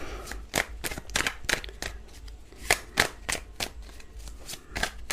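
Tarot cards are shuffled by hand, a quick series of crisp riffles and slaps in an uneven rhythm, close and moderately loud with no talking.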